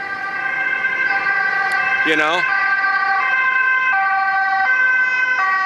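A two-tone ambulance siren wails steadily on a street in the Netherlands, holding loud and close, while a voice speaks briefly over it.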